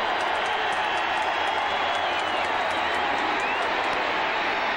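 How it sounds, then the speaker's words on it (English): Dense, steady roar of a large football stadium crowd at a 1995 Virginia at Clemson college game, loud and continuous throughout with no breaks. "Again, the Clemson crowd rises to try and support their defense."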